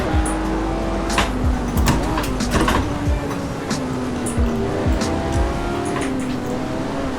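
A race car in the Assetto Corsa video game laps a track, its engine loud and close as it revs and drops through gear changes, with brief tire squeals and bumps breaking up the continuous roar.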